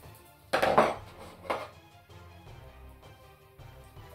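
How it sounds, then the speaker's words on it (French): A metal spoon clatters against hard surfaces in two sharp, close knocks, followed by softer scattered clinks and handling noises. "Cuillère."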